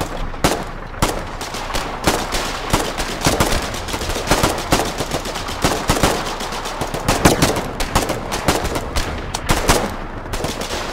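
Rapid bursts of automatic and rifle gunfire in the war game Foxhole crack out loudly and repeatedly, dense clusters of shots with brief gaps, with no voices over them.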